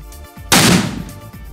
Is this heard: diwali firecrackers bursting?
yes